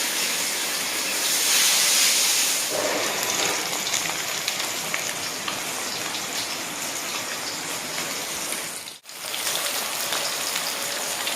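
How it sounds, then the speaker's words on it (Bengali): Steady rain falls continuously as a dense, even hiss of drops on surfaces, close and unbroken for the whole stretch, with a brief dip near the end and no talking. "বৃষ্টি এখন থামেনি, মানে হয়েই চলেছে"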